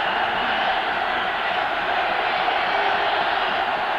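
Steady, unbroken roar of a football stadium crowd at a 1991 Chiefs vs Dolphins game, a dense wash of cheering voices holding at an even, loud level throughout.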